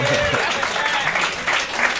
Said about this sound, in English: how about a round of applause for the hosts